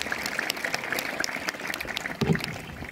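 A scattered crowd at the outdoor opening ceremony of a large scout jamboree in Bengkalis claps at a moderate, distant level, sparse individual claps with a brief low thump near the end.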